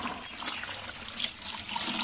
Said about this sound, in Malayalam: 2 വെള്ളം ഒന്ന് പിഴിഞ്ഞാൽ മതി